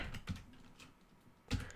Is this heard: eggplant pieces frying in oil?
no